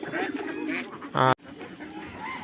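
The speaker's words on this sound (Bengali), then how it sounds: "এগুলো আমাদের কবুতর" Soft throaty cooing from pigeons nearby on a farm, mixed with duck and other fowl sounds, followed by a sudden cut and quieter background.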